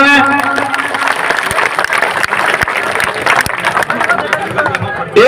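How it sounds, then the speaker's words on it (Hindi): Crowd applauding at a village election rally in Barmer, Rajasthan, with continuous clapping and sharp individual claps, amid crowd murmur and talk throughout. "इनका जोरदार तालियों से स्वागत करावे।"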